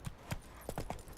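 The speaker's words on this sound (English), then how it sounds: "Run, Roach" Hooves of a horse in The Witcher 3: Wild Hunt clip-clop in a quick uneven gallop rhythm, faint and set against a low game background.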